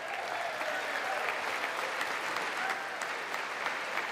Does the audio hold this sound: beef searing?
no